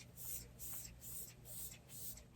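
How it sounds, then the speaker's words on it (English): Hourglass Veil Soft Focus Setting Spray mists out in four quick, soft hissing bursts, close and fairly quiet, evenly spaced. "I'm going to go in with my Hourglass Veil Soft Focus Setting Spray"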